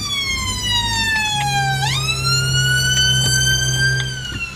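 A loud, close siren on an ambulance in traffic near a roundabout wails, its pitch sliding down then sweeping back up, over a steady engine drone.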